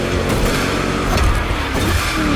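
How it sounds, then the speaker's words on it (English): In the video game The Crew Motorfest, a loud, throaty American muscle car V8 roars continuously up close, rumbling and revving with a dense, growling tone. "Just listen to that V8 like a chunky, down-tuned guitar riff."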